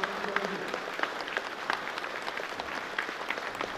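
A crowd gives sustained, dense applause at a ceremony handing out house-use permits for new homes in the Komdok area, with no voices over it.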